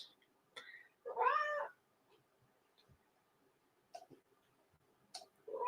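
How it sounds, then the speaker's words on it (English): One clear, nearby meow stands out in a quiet room, followed by a few faint clicks and short sounds. "she goes meowing"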